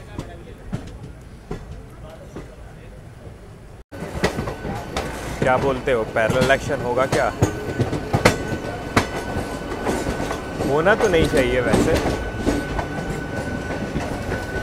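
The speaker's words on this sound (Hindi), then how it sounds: "यहाँ पर आपको EMU सर्विसेज बहुत सारे दिख जाएंगे बैंडल से हावड़ा के लिए" Trains rolling along the Bandel–Howrah line, with a steady rumble and clickety-clack of wheels over rail joints that grows louder partway through, under someone talking nearby.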